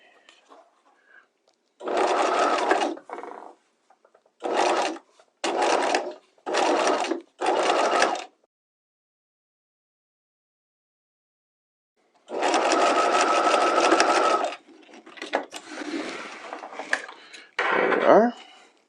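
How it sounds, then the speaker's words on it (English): Sewing machine stitching in the ditch of a bias binding seam on a garment hem, with several short bursts of close, steady whirring, a pause, then a longer run, with a few quieter handling sounds between. "I'm going to stitch right in this ditch"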